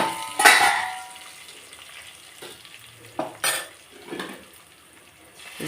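Tomatoes fry in a pan with a soft sizzle while a spoon stirs and scrapes now and then, making a few sharp clatters against the metal.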